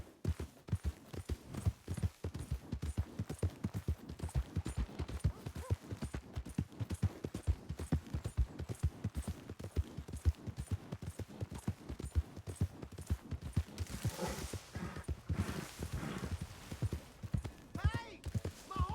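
Horse hooves clip-clop steadily in the open-world western game Red Dead Redemption 2, a continuous rhythmic trot heard close, with a brief rush of wind or noise near the end.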